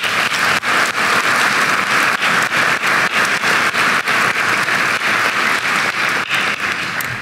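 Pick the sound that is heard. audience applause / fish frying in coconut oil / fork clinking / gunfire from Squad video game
audience applause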